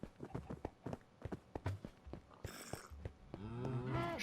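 Cattle lowing in the Minecraft video game, a few blocky cows mooing in drawn-out calls near the end, over a busy run of clicks and footstep-like taps, with no talk.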